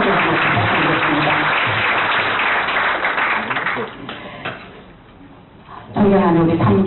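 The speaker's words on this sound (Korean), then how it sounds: "그럼 손 박수로 자기 자신에게 약속해주시면 부탁드리겠습니다." Audience at a Rotary lecture bursts into loud sustained hand clapping, which thins out and fades before voices pick up again at the end.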